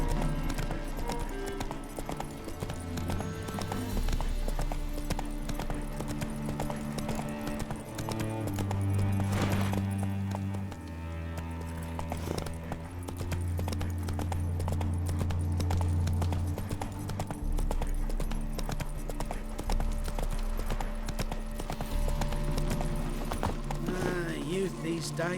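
The horse Roach gallops in The Witcher 3: Wild Hunt, steady rhythmic hoofbeats running throughout under background music and occasional talk.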